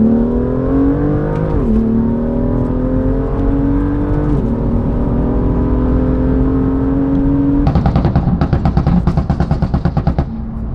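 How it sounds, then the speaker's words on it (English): A BMW M3 F80 engine revs hard up through the gears on a straight, loud and close with rising pitch and shift dips, then bursts into a rapid crackling, gunfire-like exhaust popping near the end. "Got a little straight in a second, so I'm sure we will hear the fruits of the bad boy M2, obviously with John driving."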